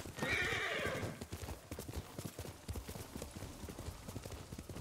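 Horse galloping up when called in the video game Ghost of Tsushima: a whinny at the start, then steady clip-clop hoofbeats approaching at a moderate, fairly quiet level.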